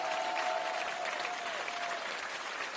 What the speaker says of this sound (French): On les applaudit tous les deux